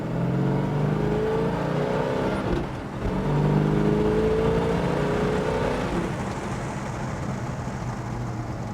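A 1968 Plymouth Road Runner with a 426 HEMI V8 revs up hard nearby, its engine note rising and falling through several loud sustained pulls, with no talking over it.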